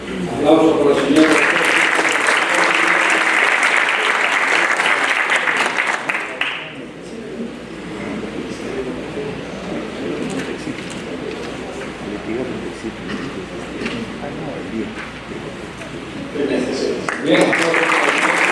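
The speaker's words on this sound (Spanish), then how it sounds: "Aplausos por la señora" An audience at a forum on social protest and the use of force applauds a woman, a loud, full round of clapping that eases into softer background noise and voices, then swells again near the end.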